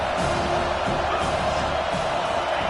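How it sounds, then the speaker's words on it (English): Dense roar of a football stadium crowd at an Ole Miss against Georgia game, a steady loud wash of noise with a commentator's voice over it. "This crowd trying to make life miserable for this offense."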